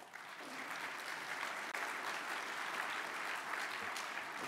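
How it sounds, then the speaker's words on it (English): Audience applause greets a speaker at a PyCon Python conference talk, a steady full round of clapping sustained throughout without voices. "Give him an applause."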